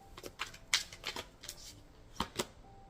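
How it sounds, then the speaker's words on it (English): Tarot cards are shuffled close by, giving a quiet run of soft, papery slaps and flicks that come in uneven bursts with no talking. "I'll shuffle."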